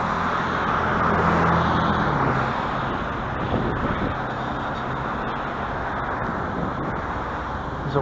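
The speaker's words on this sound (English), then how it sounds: "There's a one headlight car coming right here." A car with one headlight out drives by on a residential street at night, a steady broadband road roar that swells early and then holds, recorded from inside a moving vehicle with no talk.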